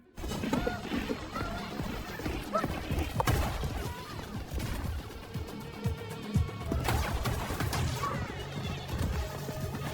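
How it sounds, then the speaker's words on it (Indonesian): A horse galloping through a desert chase in Morocco in a John Wick film, with steady hoofbeats, whinnies and crashing impacts mixed into a dense action soundtrack. "John sedang mengejar 3 pria yang bekerja untuk The Elder dengan menunggangi seekor kuda."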